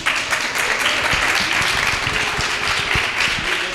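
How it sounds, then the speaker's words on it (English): An audience at a fireside chat event at Art Basel breaks into sustained applause, a dense, even wash of clapping lasting several seconds. "Give it up for Jeff"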